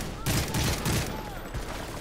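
Gunfire in the Call of Duty Modern Warfare 3 video game, a dense burst of rapid shots close up over a busy battle backdrop, fading to scattered distant fire.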